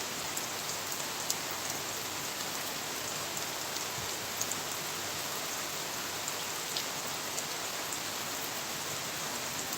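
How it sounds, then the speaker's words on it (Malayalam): Heavy rain pours down steadily, a dense, even hiss of drops with occasional louder splats, continuous throughout and without voices. "രണ്ട് ദിവസം മഴ പെയ്യാതിരുന്നിട്ട് ഇന്നങ്ങ് തകർക്കുക"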